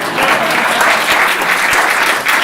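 An audience at a St. Patrick's Day event at CIT Blackrock Observatory, during a visit by the Mayor of San Francisco, claps steadily. The applause is close, even and sustained across the whole moment.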